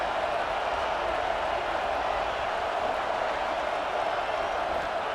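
Stadium crowd noise from EA Sports College Football 26, a road game at Iowa on a third-down red zone play, forms a steady, dense roar that holds at an even level throughout with no talk.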